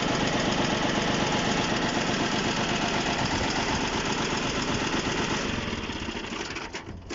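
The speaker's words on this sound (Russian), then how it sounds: "Слышим, как работает на самых минимальных оборотах, вот 800 оборотов." A Japanese mini tractor fitted with a front loader and rotary tiller idles at 800 rpm, its engine chugging steadily and close by for several seconds before the sound eases slightly near the end, with no talking.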